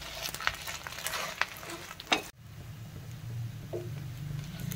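Fasting dosa roasting in a pan, giving a steady low sizzle and frying crackle that runs through the whole stretch, with a brief clatter near the middle and no voices.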